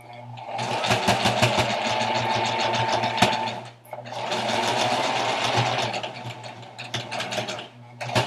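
Sewing machine stitching a pocket onto a T-shirt, running in two long rapid bursts of close, loud mechanical whirring with a short pause between and a few clicks near the end.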